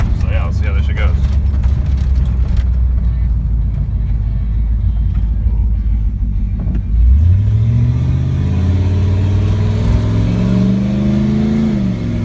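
A 1993 Ford Bronco with a 351W V8 drones at a steady cruise, then the engine note climbs in strong rising sweeps as it pulls hard uphill, loud from inside the cab, with a brief voice early on.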